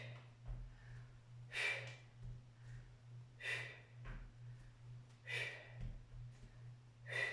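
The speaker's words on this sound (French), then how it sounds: "Des grandes respirations." Deep, forceful breaths during crunch exercises, about four loud exhalations spaced roughly two seconds apart with quieter inhalations between, close and fairly faint over a steady low hum.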